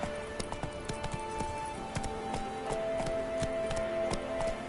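Roach the horse galloping in The Witcher video game, a rapid steady clip-clop of hooves with a faint whinny, running continuously for several seconds against a low game music backdrop.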